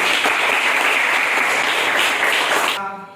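A school class applauds during a maths lesson, a burst of dense, energetic clapping from many pupils that stops abruptly near the end, leaving a brief tonal sound behind.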